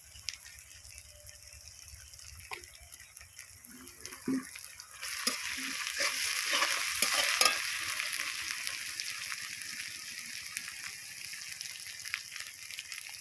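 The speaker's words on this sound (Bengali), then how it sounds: "এই আদা বাটা দিলে একটু চচ্চড় করে ঠিকরোয় আর কি" Ground ginger paste and garlic hit hot oil in a pan, crackling and spattering with sharp pops that build into a steady sizzle midway, then settle into a quieter fry, close and without talk.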